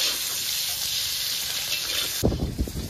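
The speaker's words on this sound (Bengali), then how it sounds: "এবার নেড়ে চেড়ে ডিমগুলোকে ভালো করে ভেজে নেব।" Steady loud sizzling of country hen eggs frying in hot oil with turmeric, then a brief clatter of stirring near the end.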